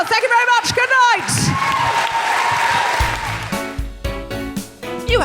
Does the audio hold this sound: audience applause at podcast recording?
yes